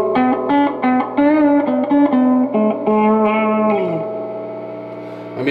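Guitar notes through a Univox U65RN solid-state amp with its spring reverb tank, played as a loud run of distinct plucked notes whose reverberant tail rings out and fades near the end.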